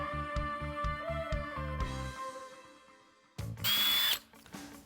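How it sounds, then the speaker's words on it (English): A power drill pre-drills screw holes in wood for a tub surround, first a pulsing, stuttering whine, then a pause and a loud high-pitched burst of drilling near the end. "Okay, it's time to start pre-drilling."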